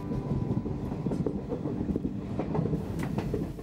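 A moving passenger train rolls along steadily, its rumble and rhythmic wheel clatter close and continuous.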